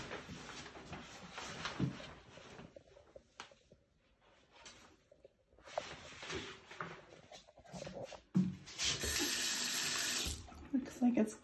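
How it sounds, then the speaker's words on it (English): A household tap runs with strong pressure, water splashing steadily into a sink in bursts that stop and start, fairly close, with faint talk in the room. "Looks like it's good water pressure."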